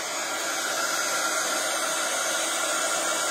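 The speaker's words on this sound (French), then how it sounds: "attention au pistolet chauffant, hein, parce que forcément ça brûle les doigts" A heat gun blows a loud, steady, close rushing hiss while melting gilding powder, continuous and unbroken throughout.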